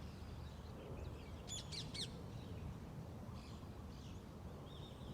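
A crow caws three times in quick succession at a distance, followed by a few fainter bird calls, all set against a steady low outdoor rumble of traffic and ambient noise.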